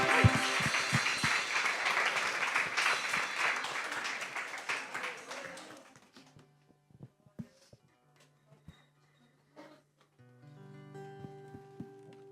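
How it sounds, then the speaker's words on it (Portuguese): A church congregation at a South American worship service breaks into loud, dense applause that fades out after about six seconds, leaving sparse claps, quiet murmurs and soft sustained instrumental tones. "Aleluya, un aplauso para el Señor."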